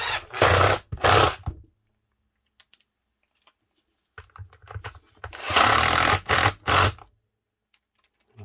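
A Makita HR5001C rotary hammer is run on test after repair, its motor firing in short, loud bursts: two quick runs at first, then silence with faint clicks, then a cluster of several more brief bursts.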